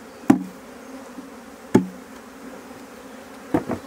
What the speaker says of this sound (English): I'll just tap these bees in.